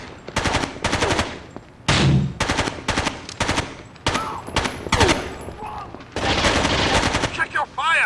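Machine gun fire in the Rainbow Six 3 video game, repeated sharp automatic bursts in close rapid rhythm, loud and near, broken by brief pauses and one sustained volley near the end.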